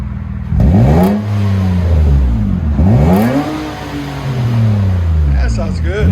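2007 Nissan Altima with a 3.5L V6 and dual exhaust through DC Sport mufflers, revved twice in deep rising and falling sweeps with idle between, close and loud, while a person talks over the engine.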